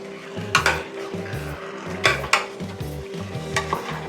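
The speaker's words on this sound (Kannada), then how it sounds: "ಮಿಕ್ಸಿಂಗ್ ಮಾಡೋಣ" A spoon scraping and clanking against a pot as biryani masala mixture is stirred, in uneven strokes over a low sizzle, with a steady hum underneath.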